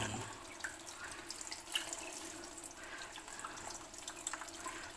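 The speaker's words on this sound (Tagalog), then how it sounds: "Hugasan lang po natin at masyado maputik." Muddy food being rinsed under a running tap into a sink, a soft steady splash of water with faint drips, fairly quiet and without speech.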